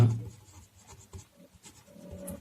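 Pen or chalk writing during a class-8 maths lesson on rational numbers, a run of short scratchy strokes with brief pauses, close and fairly quiet, with no talking.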